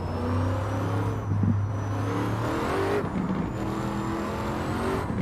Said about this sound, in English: Like it's just the wind and road noise just fills your ears.